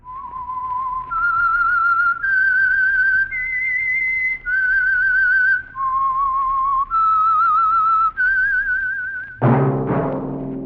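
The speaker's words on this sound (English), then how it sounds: "That whistle is your signal for the Signal Oil program, The Whistler" A lone whistler carries the theme tune of The Whistler, a Signal Oil mystery radio program, in clear sustained notes stepping up and down one after another, ending in a sudden loud burst of sound.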